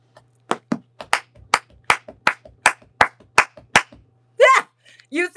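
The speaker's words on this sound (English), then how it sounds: "You said I got to do my Holy Ghost clap and stomp" Holy Ghost clapping and stomping, about a dozen sharp, loud hand claps in a quick steady rhythm with soft thuds between, followed by a short burst of voice.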